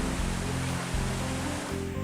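A steady, dense roar of falling water from a waterfall about 80 meters high and 50 meters wide at Nagari Koto Baru in Pesisir Selatan, West Sumatra, heard close and unbroken with a faint low pulsing beneath.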